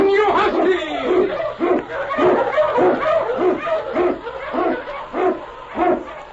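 Husky sled dogs bark and yelp in a steady run of repeated calls, loud and close, as the team is driven through snow in the Yukon.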